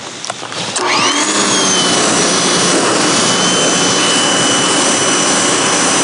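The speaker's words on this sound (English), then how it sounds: "So this is the 15 degree nozzle, and I'll go ahead and just hose this thing down now." A Westinghouse ePX3000 electric pressure washer fitted with a 15 degree nozzle starts with a few clicks and then holds a loud, steady spraying hiss over a motor whine, close and unbroken.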